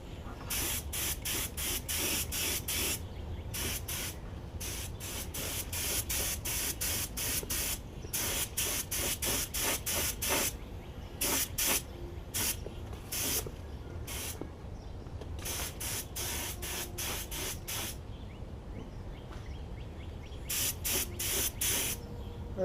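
A spray gun lays paint on an REO engine in a run of loud hissing bursts, each lasting about a second and broken by short pauses over more than twenty seconds, close up with no talking.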